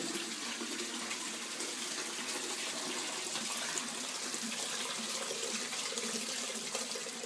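Water flowing steadily through a TerraDrain drainage sample in a standardised test cell under low pressure, a continuous even rushing gush like a running tap, moderately loud and alone without talk.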